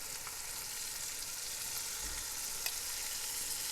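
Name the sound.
marinated chicken frying with spices in a pot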